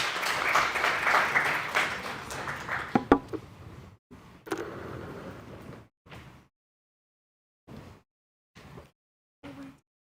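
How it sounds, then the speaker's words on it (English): Audience applause at an international symposium on Islamic psychology greets a speaker, starting as dense broadband clapping, thinning out after about four seconds and ending in a few scattered, isolated claps. "Rounds of applause, please."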